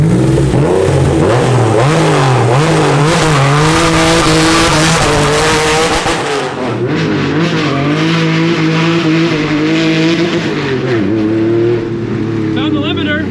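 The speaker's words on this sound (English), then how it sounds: "I'm gonna do a burnout." A Porsche 964 with a six-speed swap does a loud burnout. The engine is held at high revs and wavers near the limiter over squealing tires, and the roar drops and then picks up again partway through. Voices are faintly audible under it.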